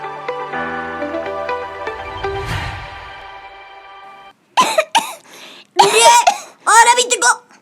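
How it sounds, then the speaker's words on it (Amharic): A child coughs and clears their throat in several loud, separate bursts after a stretch of music, close to the microphone. "የምን ሰል ነው?"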